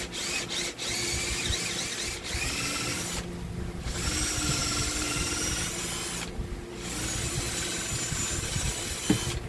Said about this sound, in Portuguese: Usar esta broca aqui, ó. Tá aqui na função para furar